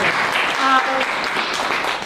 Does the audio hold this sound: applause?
yes